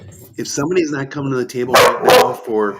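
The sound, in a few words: dog barking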